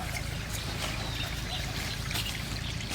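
Water runs steadily from a tap left open, a continuous, fairly faint splashing rush with no pauses and no talk over it.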